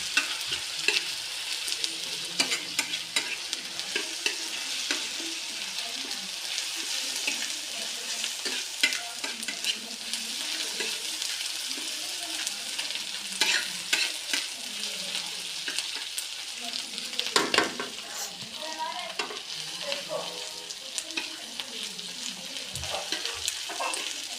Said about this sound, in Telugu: అల్లం వెల్లుల్లిపాయ పేస్ట్ అయితే ఫ్రై చేసుకుందాం పచ్చివాసం పోయేంత వరకు అయితే ఫ్రై చేసుకుందాం